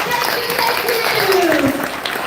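A crowd applauds after a school stage play of Alice in Wonderland, steady clapping mixed with excited voices and cheering over the top.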